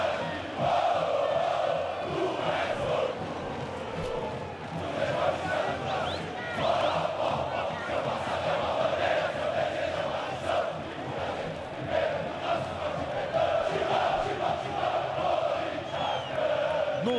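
Corinthians fans fill Pacaembu stadium celebrating the Libertadores title win over Boca Juniors, a loud sustained roar of chanting and cheering from a massive crowd, continuous for the whole stretch with swelling peaks.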